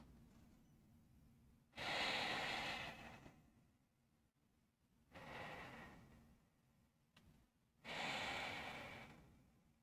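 Slow, deep breaths during a yoga forward fold in bound angle pose, three long breathy exhalations each lasting about two seconds, close and fairly soft, separated by quiet pauses with no talking.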